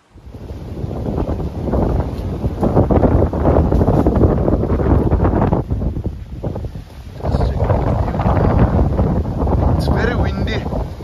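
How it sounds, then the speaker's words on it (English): Strong wind buffets the microphone almost continuously, a loud low roar with brief dips, while voices talk faintly underneath, in Jakhama village near Kohima, Nagaland. "It's very windy."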